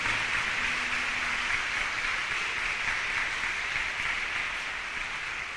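A church congregation applauds together in a steady, dense wash of clapping that holds through the whole stretch at moderate loudness and fades slightly at the end.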